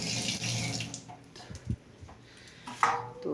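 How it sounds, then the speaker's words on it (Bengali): Water running from a tap into a pot of lentils, a steady broadband pour that thins out after about a second, followed by a few faint clinks and a brief splash near the end. "জল দিয়ে দিলাম।"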